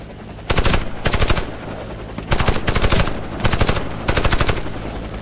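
Automatic gunfire in the video game Warface comes in five sharp, rapid bursts of about half a second each, loud and close, separated by short gaps over a steady low game ambience, with no talking.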